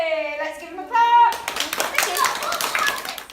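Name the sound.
children clapping at workshop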